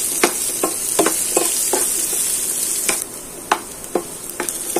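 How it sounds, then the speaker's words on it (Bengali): Dried red chillies, ginger and garlic are lightly fried in a pan: a soft, steady sizzle sits under a dozen sharp, irregular scrapes and clacks of a spatula stirring them, close and clear. "এগুলো আমি হালকা ভেজে নিব।"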